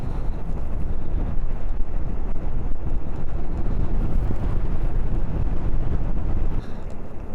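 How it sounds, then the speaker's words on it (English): Steady, loud wind buffeting a microphone while riding an ENGWE Engine X electric bike on a cold winter day, a continuous low rumble filling the whole stretch with no talking. "the wind's blowing on my face and it's a little bit cold"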